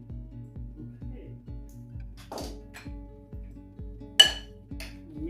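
A chickpea salad seasoned with garlic and ginger is stirred in a bowl, a steady rhythmic scraping punctuated by two sharper utensil clinks against the dish.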